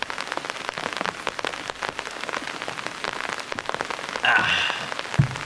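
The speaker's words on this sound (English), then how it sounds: "We might actually hit pause on this until this rain slows down." Heavy rain pours steadily on a surface outdoors, a dense continuous patter with scattered louder drops, swelling briefly near the end with a short thump.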